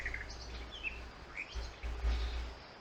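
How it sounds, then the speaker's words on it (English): Ambient birds chirping in the Slendytubbies: Retribution video game, a few scattered high tweets and short calls drifting over a steady low rumble of background hum, faint and distant. "It's just, birds chirping and I think I can hear, like, water running."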